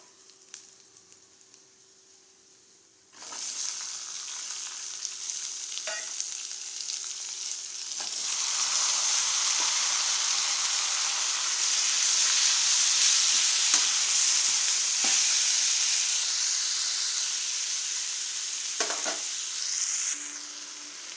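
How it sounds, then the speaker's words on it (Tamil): Onions and tomatoes hit a hot pan after a short quiet moment, then fry with a loud, continuous sizzle that grows stronger, with occasional scrapes of a spoon stirring them. "வெங்காயத்தை போட்டு நல்லா வதக்கிக்கலாம்"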